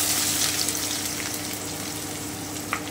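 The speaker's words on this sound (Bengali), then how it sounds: "এবারে আমি কুচনো পেঁয়াজটা দিয়ে দিচ্ছি" Chopped onions frying in a pan over low heat with spices for Bengali chicken Patiyala, a steady soft sizzle and crackle heard up close, fairly even throughout with a small spike near the end.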